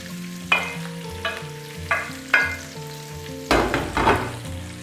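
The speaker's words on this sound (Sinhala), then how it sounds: "දැන් මේක මෙන්න මේ විදිහට හොඳට කලවම් කරගෙන ටෙම්පරාදු කරගන්න ඕනේ." Green chili, onion and Maldive fish chili are stirred in a pan for tempering, with a utensil scraping and knocking in a few distinct strokes over a soft sizzle, close by and without talk.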